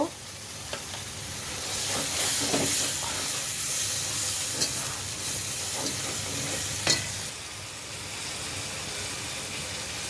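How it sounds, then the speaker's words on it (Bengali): Masala paste sautéing in a hot pan for a Friday fish-head curry, a steady broadband sizzle with occasional stirring scrapes and spatters, close and fairly quiet, no voices. "এখন মশলাটা সুন্দর করে কষাবো"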